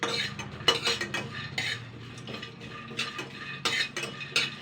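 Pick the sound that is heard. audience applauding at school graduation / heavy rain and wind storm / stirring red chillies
stirring red chillies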